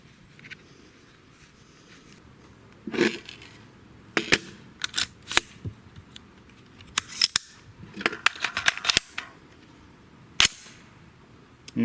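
A suppressed rifle firing Barnes JHP ammunition at a 100-yard range: a handful of sharp, dry cracks spaced a few seconds apart, alongside smaller clicks and handling noises at moderate distance.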